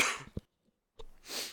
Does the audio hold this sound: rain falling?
no